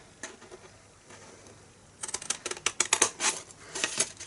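Scissors cut paper for a fold-flat box, with quiet handling at first, then a quick run of crisp, close snips and rustles over the final two seconds.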